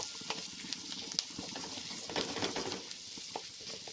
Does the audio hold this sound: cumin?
yes